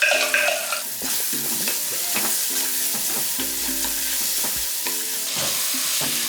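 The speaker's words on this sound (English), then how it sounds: "I'm frying on a high heat." Peppers frying and being stirred in a pan over high heat, a steady loud sizzle broken by repeated scraping stirs, with no talking.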